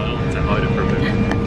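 An airliner's engines drone steadily inside the cabin while the plane waits for takeoff, a brief low rumble under nearby voices.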